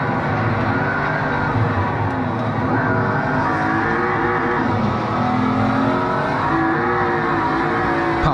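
An RB26-engined car running just ahead on the Nürburgring, its engine a loud, steady droning roar heard from the following car, with the pitch rising and falling as it pulls along the track.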